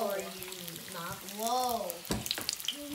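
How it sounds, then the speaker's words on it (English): Egg roll s'mores frying in hot oil, a close crackling sizzle with pops and stirring, while voices talk and exclaim over it. "Now it's done frying."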